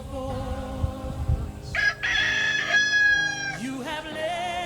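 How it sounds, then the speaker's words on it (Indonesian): A rooster crows loudly and near in a drawn-out cock-a-doodle-doo, with a steady background bed of music beneath it. "ayam berkokok"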